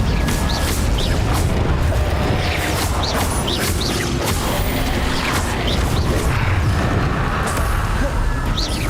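Incendio fire spell in the Hogwarts Legacy video game, heard as a sustained, loud roar of booming, crackling blasts layered with repeated whooshes and bursts for several seconds.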